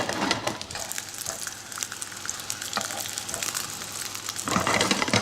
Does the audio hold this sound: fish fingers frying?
yes